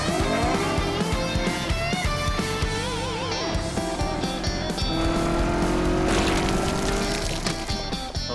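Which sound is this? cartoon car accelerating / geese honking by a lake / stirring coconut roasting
cartoon car accelerating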